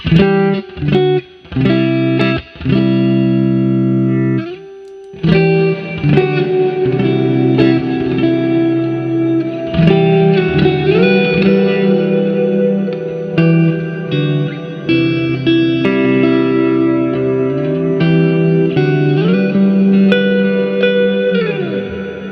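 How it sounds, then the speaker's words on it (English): Electric guitar chords and picked notes ring out through a spacious reverb from an MXR reverb pedal, tails lingering and blending after each strum. "And finally we've got our MXR reverb."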